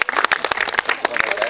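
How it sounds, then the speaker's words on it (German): An audience at a medieval festival by Burg Liechtenstein claps for Christina, a dense run of hand claps filling the short moment while people talk over it. "Einen Applaus für die Christina"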